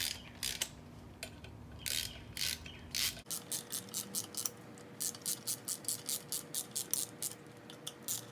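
Bolts are turned on the differential of a BMW E46 M3 with a ratchet, giving a string of quick, rhythmic clicks close by. A few heavier clacks come first, then a steady, even run of ratcheting.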